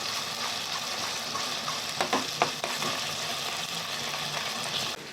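Masala frying in hot oil for a Malvani surmai fish curry, a continuous bright sizzle with a short cluster of stirring clinks and scrapes midway, close and without talk.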